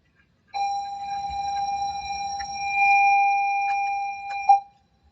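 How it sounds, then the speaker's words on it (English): A steady electric school bell rings continuously for about four seconds, loud and sustained with a bright metallic tone, then cuts off abruptly. "You will hear the bells ring."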